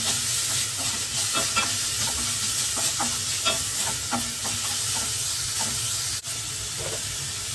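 Onion sizzles in a pan alongside ginger while cooking a fermented fish and rice dish. A dense, constant hiss of frying is marked by regular clinks and scrapes of stirring, close up and with no voices.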